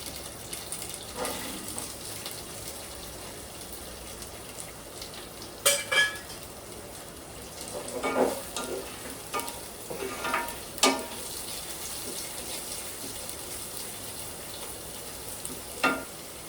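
Sliced onion and green chillies sizzle steadily in a pan, with a soft continuous frying hiss broken by occasional clinks and scrapes of a spoon stirring.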